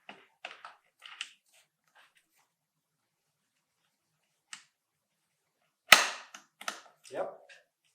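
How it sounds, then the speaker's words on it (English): A newborn baby product part snaps into its holes with a sharp click, heard as a few faint small clicks and then one loud, close snap followed by light handling noise. "put this part here inside the holes and wait until we hear the click"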